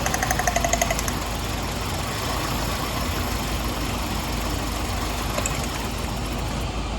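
A car engine with a misfire from a bad spark plug idles up close, running steadily with a rough, uneven knock throughout and no talking.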